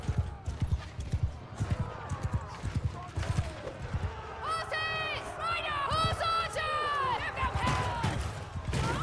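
Horse hooves gallop in a Mount & Blade II: Bannerlord battle, a steady clip-clop rhythm running under shouted commands and battle noise, with people talking throughout.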